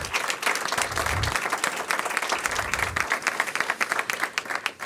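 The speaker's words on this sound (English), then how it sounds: "Give them another big round of applause." Strong applause from a crowd at a mayor's announcement of a final soccer stadium agreement, dense clapping that thins into scattered individual claps toward the end.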